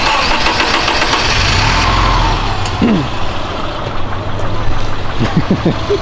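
A Subaru STI car engine runs loudly and steadily up close, rumbling with a few revving changes and no talking.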